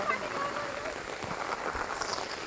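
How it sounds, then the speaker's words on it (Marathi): Monsoon rain falls steadily in Sanjay Gandhi National Park at Borivali, a soft, continuous patter of drops on the surroundings, fairly quiet and close, with no clear voices. "हा पाऊस जरासा डोक्याला त्रास देतोय बघा"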